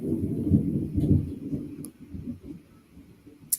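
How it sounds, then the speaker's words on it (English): Distant thunder rolls in low, muffled swells, with two broader rumbles early on that fade into a quieter, uneven grumble, and a small sharp click near the end. "y'all hear that thunder"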